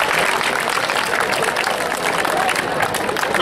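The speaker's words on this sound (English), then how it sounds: "Let us give them all a big round of applause." An audience applauds at a school investiture ceremony, a steady wash of clapping mixed with crowd murmur that holds at an even level throughout.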